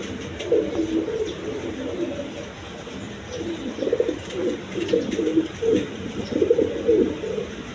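A pair of pigeons offered for sale coo repeatedly, a rolling series of low, throaty calls that swell and fade in rhythmic bursts, near and fairly loud over a quiet background.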